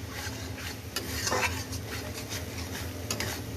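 Spice paste with a little sugar sautéing in a pan, a soft steady sizzle under intermittent scraping and light clinks of a spoon stirring, close but fairly quiet.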